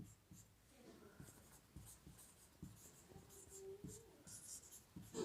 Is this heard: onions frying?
no